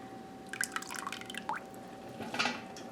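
Beef bone broth drips and trickles as it drains from an Instant Pot, with a few quiet splashy drops and a louder cluster near the end, faint and close, with no talking.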